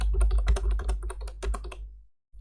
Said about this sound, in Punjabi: ਮੈਂ ਆਪਣੇ ਸਕੂਲ ਦਾ ਯੂਡਾਈਸ ਕੋਡ ਐਂਟਰ ਕਰ ਦਿੰਦਾ ਹਾਂ